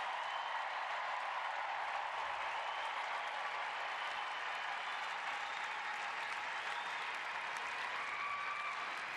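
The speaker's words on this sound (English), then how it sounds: "Some nice applause as she makes way for Tyler Lucy, 26-year-old out of Princeton" A crowd at a women's soccer match gives steady, sustained applause for a substituted player, an even wash of clapping heard from a distance with no break.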